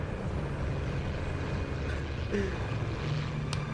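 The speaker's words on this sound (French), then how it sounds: "Un petit avion." A small propeller plane in flight in the video game Metal Gear Solid 3: a steady, droning engine hum that fills the whole stretch with no clear breaks.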